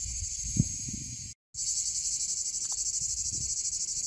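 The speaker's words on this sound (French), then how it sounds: "Je partage avec vous ce magnifique environnement dans lequel j'ai le bonheur de vivre, avec les cigales au-dessus de ma tête." Cicadas sing overhead outdoors in a loud, continuous, pulsing drone that cuts out for a moment and then resumes just as strongly.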